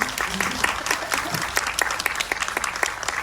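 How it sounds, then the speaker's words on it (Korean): Audience applause at a Busan film festival event, a steady round of many hands clapping close by with sharp individual claps standing out, sustained throughout without talk. "박수 한번."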